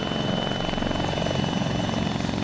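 A helicopter in the Arma 3 military game runs steadily throughout, a dense, continuous rotor and engine drone with a faint high whine on top, with no gaps or talk.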